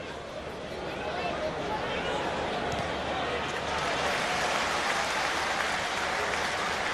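Crowd at a Manchester United vs Tottenham Hotspur Premier League football match applauding, a broad, sustained wash of clapping that swells slightly and stays steady throughout, heard from a distance across the stadium.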